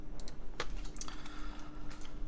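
Typing on a Topre keyboard fitted with deep-dish URSA keycaps, a close run of soft, muted keystrokes at an uneven pace with a few louder thocks standing out, no talk.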